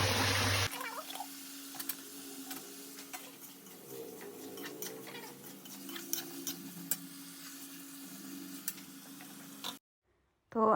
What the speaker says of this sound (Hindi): तो आलू देखिए मसाले में अच्छे से भुन गए हैं